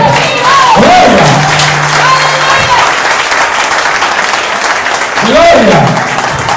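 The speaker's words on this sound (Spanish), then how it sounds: "Un aplauso a Cristo." Congregation applause for Christ during a church service, loud sustained clapping with cheering and whoops, and voices shouting over it near the start and again toward the end.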